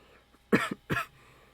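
Two short, harsh coughs from one person, close and fairly loud, with a brief catch between them and quiet room noise before and after.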